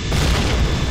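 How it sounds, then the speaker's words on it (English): A bomb blast from a web-swinging superhero video game: one loud, close boom filling the whole second with deep rumbling low end, steady and heavy without a sharp start or fade, no talking. "I'll throw the bomb."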